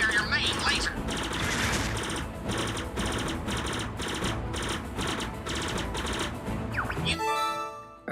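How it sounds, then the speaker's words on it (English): Rapid repeated laser blasts from an Arwing in Star Fox Zero, a steady rattling stream of shots with pulsing bursts, ending in a rising chime-like tone, with game music and effects underneath. "Press the ZR button to fire your main laser"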